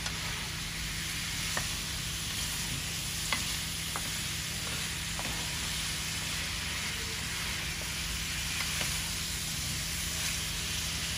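Tilapia, fresh cauliflower and chicken liver sauté together in a pan. A constant, close sizzle carries on throughout, broken by scattered clicks and scrapes of stirring, with no talking.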